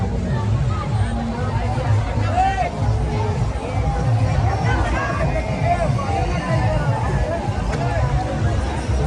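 A dense street crowd at a 2023 Eid Milad un Nabi (12 Rabi ul Awwal) procession in Lucknow fills the air with steady, close hubbub and overlapping chatter that never lets up.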